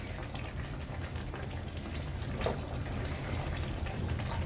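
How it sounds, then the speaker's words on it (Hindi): Beef karahi fries in oil in a home kitchen, a constant soft sizzle and bubbling crackle that stays fairly quiet and even throughout. "तो अब थोड़ी सी इसकी जो है ना भुनाई स्टार्ट करते हैं।"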